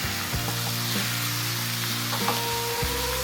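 Fresh tomato sizzles in a hot frying pan for tuyo pasta, a steady close crackle with light stirring knocks throughout.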